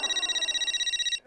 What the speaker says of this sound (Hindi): फोन आया, एक मिनट ना।